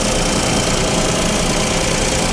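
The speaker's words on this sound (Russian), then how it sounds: "мотор работает как часики." A used car's engine idles steadily just after being started, a continuous mid-pitched rumble with a faint knocking texture, close and loud with no talking.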